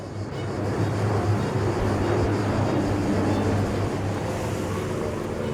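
Firefighting aircraft, a helicopter and water-bombing planes, fly over a summer wildfire in Provence, giving a steady engine drone that holds at an even level for several seconds.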